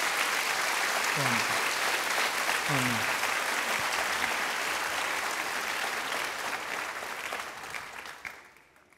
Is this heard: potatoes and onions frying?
no